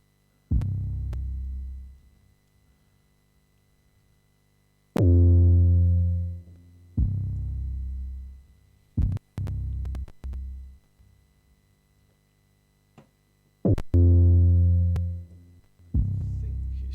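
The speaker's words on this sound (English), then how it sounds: "There's this 808 bass line, which I'm going to take out as a loop" Deep, booming 808 bass notes in a sparse, syncopated loop, each hit sliding and decaying, with short clicky percussion between them.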